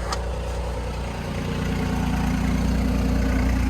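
A BMW i8's exhaust idles with a steady, low rumble continuously at close range, with a slight rise in level toward the end.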